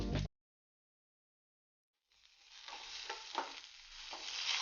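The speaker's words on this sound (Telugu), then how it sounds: "కొంచెం ట్రాన్స్పరెంట్ కలర్ వచ్చే వరకు ఫ్రై చేసుకోవాలి." Finely chopped onions and green chillies frying in a pan for oats upma, with a short loud burst at the start, then silence, then a steady crackling sizzle building with stirring scrapes.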